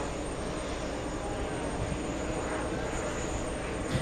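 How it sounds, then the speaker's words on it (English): Jet airliner engines at JFK airport, including a Kuwaiti Boeing 777 taxiing to the runway for takeoff. A steady, broad roar with a high whine holds evenly throughout at moderate distance, with no talking. "We also have the Kuwaiti 777 heading to the runway for takeoff."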